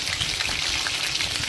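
Fried chicken sizzling loudly in hot oil, a dense continuous crackle and spatter heard up close with no talking.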